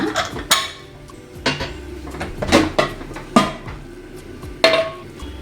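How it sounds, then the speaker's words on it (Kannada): Sharp metallic clanks and clinks as a metal pressure cooker holding mutton sambar is opened, several knocks spaced irregularly, close and fairly loud, with no talking. "ಕುಕ್ಕರ್ ತೆಗೆದು ನೋಡೋಣ"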